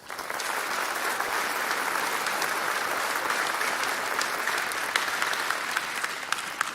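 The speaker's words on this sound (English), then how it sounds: "Let's give her a round of applause." Sustained applause at a fire cadet academy graduation ceremony, honoring an honoree; a large audience claps evenly and continuously, fairly full and steady after a quick start.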